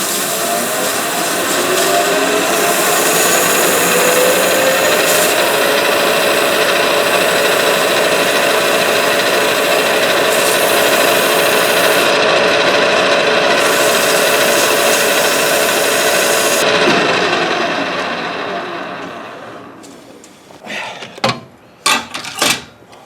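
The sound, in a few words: polishing a metal branding iron handle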